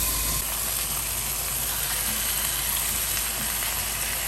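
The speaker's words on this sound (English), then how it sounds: "we're gonna sear the pork chops on high, about 3 or 4 minutes per side" Pork chops searing in a pan on high heat give a steady, even hiss and sizzle with no breaks, moderately loud and close, without talking.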